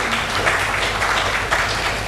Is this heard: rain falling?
no